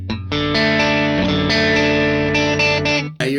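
Electric guitar played through a Matchless amp with the master volume engaged, ringing chords with a slightly driven, full tone that sustain and change across a few strums before cutting off sharply, close and loud.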